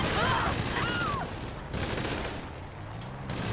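Gunfire in a military vehicle game, likely the JB700W, with rounds striking and punching through a wall: a dense, continuous rattle of impacts that stays loud for the first half and then eases slightly.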